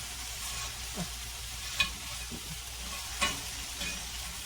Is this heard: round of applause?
no